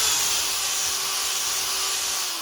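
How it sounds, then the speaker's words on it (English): A power drill whirs steadily and close while a leash plug is fitted into a bodyboard deck, a continuous mechanical hum with no talking. "So you saw how I spun the drill around there to give myself a little bit more room to get this piece into the top"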